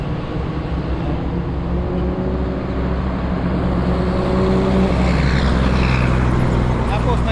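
Several trucks rumble past loudly and up close on a subdivision road in Digos City, a steady heavy engine drone with rising and fading passes.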